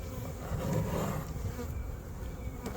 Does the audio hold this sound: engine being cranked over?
no